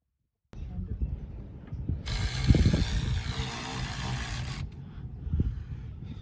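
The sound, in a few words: tightening bolts on a pump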